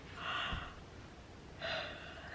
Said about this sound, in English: How many people yawned with me just then?